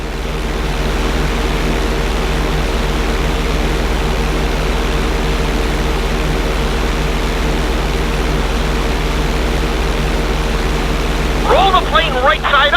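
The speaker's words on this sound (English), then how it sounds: "Hold the plane upside down for several seconds." A steady, droning propeller-plane engine hums loud and unbroken during a GTA 5 flight school lesson, with a brief warbling sound near the end.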